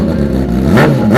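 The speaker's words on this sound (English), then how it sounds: "Now let's hear how Kawai's manic 4-cylinder sounds." A Kawasaki Ninja ZX-10R four-cylinder motorcycle engine revs hard and close, a loud, sustained mechanical roar that swells in pitch toward the end.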